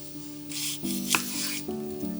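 A knife cuts apples into thick wedges in a kitchen, giving two brief scraping, rasping strokes against a quiet, faint humming background.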